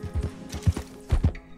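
A horse in the video game Red Dead Redemption 2 clops in a few short, uneven pairs of hoofbeats, close by and moderately loud, with no talk over it.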